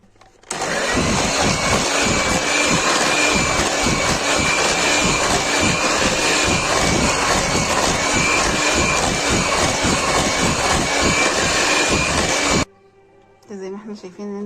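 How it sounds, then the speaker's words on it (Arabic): An electric mixer beats cookie dough of egg and vanilla for shortbread (sablé), a loud steady whir running about twelve seconds before cutting off, with brief quieter clatter after. "كده هنضرب لما تختفي البيضة بالفانيليا"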